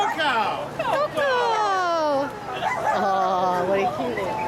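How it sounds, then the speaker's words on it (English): Dogs at a crowded rescue transport pickup bark, yip and whine in overlapping rising and falling cries, loud and close and almost continuous. "I know Stevie's bark like out of a crowd"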